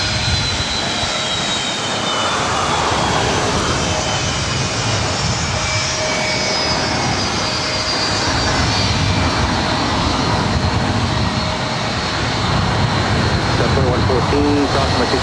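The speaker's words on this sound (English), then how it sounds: "This is Delta 2114 coming in from Minneapolis on an A321neo." A Delta Airbus A321neo landing at LAX produces a loud, sustained jet-engine roar with a faint whine, steady throughout, while a voice talks intermittently underneath.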